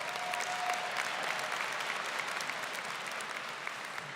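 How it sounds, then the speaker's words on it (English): Commencement audience at a Drexel University ceremony in Philadelphia applauding steadily, a dense wash of clapping from a large crowd, moderately quiet and distant, continuing evenly throughout with no talk over it. "She's worthy of applause."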